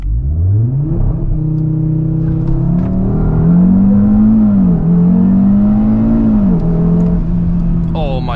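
A 450 hp Cupra Formentor VZ5 with an Akrapovic exhaust accelerates hard, its engine note climbing steadily through the gears with brief dips at each shift, loud and continuous from inside the car.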